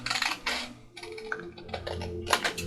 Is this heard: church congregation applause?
no